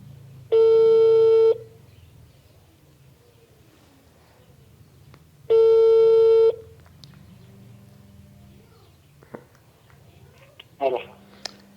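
Outgoing telephone call ringback tone: two long steady beeps about five seconds apart, fairly loud over a low background hum, followed by faint clicks and a brief noise near the end.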